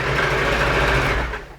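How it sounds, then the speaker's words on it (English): A sewing machine runs a steady, fast stay stitch along the edge of faux fur fabric, an even mechanical whir close up that stops abruptly near the end. "Now I'm going to have to stay stitch around the edge"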